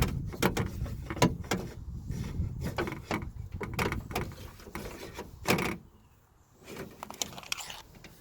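Interior door panel being pried and pulled off a Nissan 350Z, a series of sharp plastic clip pops and knocks with rustling handling in between, close and fairly loud, with a quieter pause near the end.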